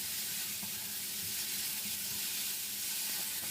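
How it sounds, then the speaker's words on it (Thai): Luffa and minced pork stir-frying in a pan give a steady, close sizzle with a broad hiss that holds evenly, broken by faint scrapes of stirring. "เราก็นำบวบลงไปผัดต่อได้เลยนะครับ ผัดต่อไปสักแป๊บหนึ่งนะครับ"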